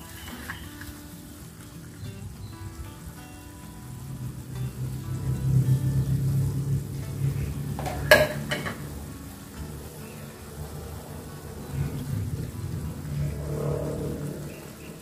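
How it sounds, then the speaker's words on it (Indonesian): Fried tilapia pieces sizzle and bubble steadily in a yellow spiced sauce in a pan, with a brief sharp clatter of utensils midway. "selanjutnya masukkan ikan yang sudah tadi saya goreng."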